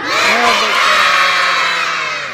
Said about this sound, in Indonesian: Aku mau semua dari tengah, kanan dan kiri semuanya teriak yang kencang